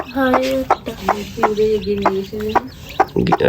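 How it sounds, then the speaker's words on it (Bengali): A hen clucks in a series of short, nasal calls close by, with a few brief sharper sounds mixed in. "এটা তো গিন্নি মুরগি"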